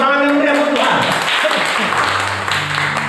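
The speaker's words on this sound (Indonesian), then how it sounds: "Berikan tepuk tangan yang meriah untuk Tuhan." A church congregation applauds during a sermon, a dense spread of clapping heard at close range with a speaking voice over the start.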